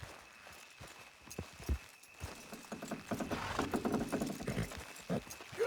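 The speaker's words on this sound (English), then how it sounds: "Good horses." Hooves of several horses clip-clopping at a run in Red Dead Redemption 2, the rhythmic beats starting sparse and building into a denser, louder gallop that rolls on steadily.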